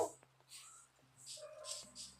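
A Minecraft wolf makes soft whimpers and short yips, faint and brief in a quiet game scene, with a few small clicks between the calls.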